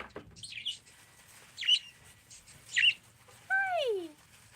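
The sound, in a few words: pet bird singing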